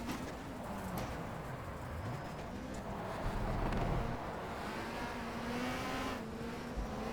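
Race cars in the WTCC racing video game at the Puebla circuit in Mexico, including a Honda, with steady engine drone and shifting pitch as the cars accelerate and brake through corners, continuous and fairly loud throughout.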